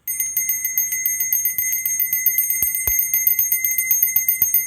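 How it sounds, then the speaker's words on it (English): A small handheld bell rung outdoors near chickens sounds close and clear, a rapid, steady series of bright metallic strikes with overlapping ringing tones. "I guess we could use the bell and ring it a few times to clear the space"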